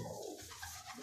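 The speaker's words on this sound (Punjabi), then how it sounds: "ਕਬੂਤਰ" A pigeon kept in Lahore gives a brief, soft, low coo, close and quiet, with no talk over it.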